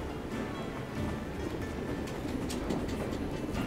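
A train in the video game Assassin's Creed Syndicate, set in Victorian London, rumbles steadily and continuously, with a dense low roar and faint clatter throughout, no speech.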